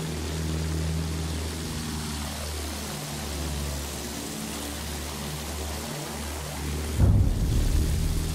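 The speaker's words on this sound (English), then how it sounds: "Ho individuato un aereo nemico." An enemy airplane in the video game Battlefield 1 drones past with a steady propeller-engine roar, its pitch sweeping as it passes, ending in a louder rumbling burst near the close.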